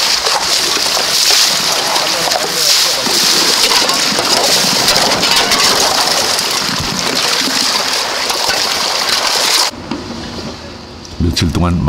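Heavy rain pours at a gold mine, a dense, loud, steady hiss that cuts off abruptly near the end, leaving a quieter patch with a few sharp knocks.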